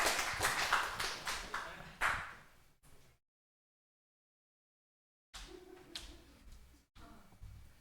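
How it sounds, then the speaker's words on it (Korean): Scattered clapping from a church congregation at a special evangelistic meeting, with sharp hand claps over roughly three seconds. A stretch of dead silence follows, then more clapping and rustling noise resume. "자, 박수 한번 주십시오."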